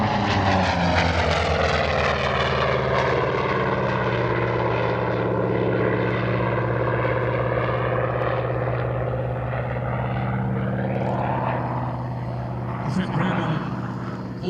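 A Vought Corsair warbird propeller fighter flies at an airshow in Leszno, a loud sustained droning engine roar that sweeps and slowly fades as it passes, with a voice commentating over it.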